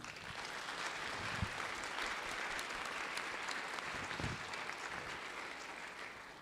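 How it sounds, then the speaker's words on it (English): Warm round of applause from legislators in the House chamber for an honoree, a dense, even wash of clapping that carries on steadily, moderately distant and soft. "If we can give him a big round of applause."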